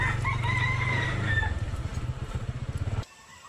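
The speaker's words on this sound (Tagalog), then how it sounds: "Ang daming manok, puro panabong." Several fighting cocks crow repeatedly near a road in the Philippines, layered over the low drone of an idling motorcycle engine, with the crowing fading out just before the clip goes quiet.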